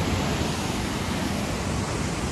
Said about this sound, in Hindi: तो ये सीधा ग्लेशियर से मेल्ट होके वाटर आ रहा है बिल्कुल वाइट